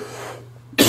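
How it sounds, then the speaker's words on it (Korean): A single sharp cough bursts out near the end after a stretch of quiet room tone, loud and close, from a speaker during a Korean sermon. "죄송합니다. 기침이 끊이지가 않아서."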